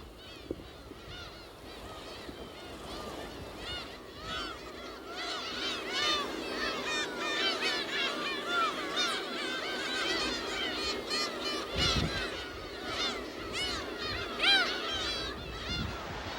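Seabirds call on Dokdo island in spring over a low sea and wind backdrop, a dense flock of many overlapping high cries and honks at middle distance that grows busier partway through.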